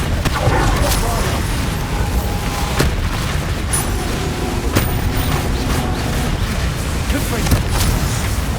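Repeated spell blasts from the Bombarda curse in the fantasy action game Hogwarts Legacy, dense booming explosions with sharp cracks over continuous game noise and a voice calling out spells.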